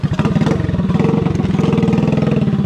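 A Mini Trator Max small vehicle's engine runs on a rocky trail, a loud, steady, throbbing motorcycle-like putter close to the microphone that holds a rough idle-to-mid rev for the whole stretch, with no voices.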